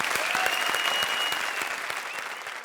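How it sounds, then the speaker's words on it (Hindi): Loud, sustained applause from a studio audience for three comedy teams on a television comedy show, dense clapping filling the whole stretch without a break. "तो इन टीम्स के लिए जोरदार तालियां प्लीज"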